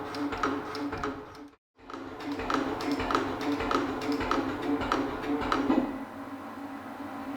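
An HS135 shaper machine runs with a steady rhythmic clicking from its feed mechanism, close and regular apart from a brief gap, over a mechanical hum.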